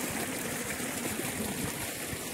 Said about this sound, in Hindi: दोनों बगल से तेज बहुत तेज से गिर रहा है पानी